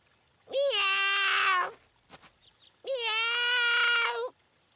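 A cartoon kitten gives two long, clear, high-pitched meows separated by a short pause, with a faint small rustle between them. No one speaks.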